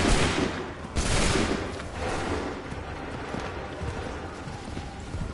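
Musket volleys crackle in the Assassin's Creed 3 video game: dense bursts of overlapping gunfire, loud and close, with a heavy opening crack followed by another about a second later and a sustained rumbling tail.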